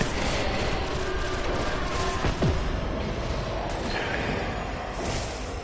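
Gunfire from the video game Destiny, a dense, continuous wash of shots and explosive booms over steady game noise, loud and unbroken throughout.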